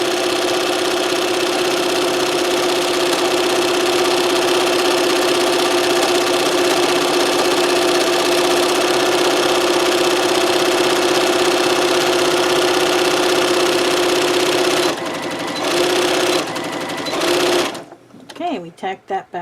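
A sewing machine stitches a pillowcase in a long, steady, close whirring run, then falters into a few short stop-start bursts before going quiet.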